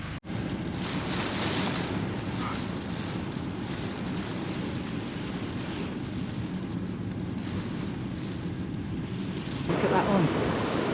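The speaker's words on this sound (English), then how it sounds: "Waves look so fun though." Ocean waves break in a cold, wild surf spot, a constant rushing roar of surf with wind buffeting the microphone and a slightly louder surge near the end.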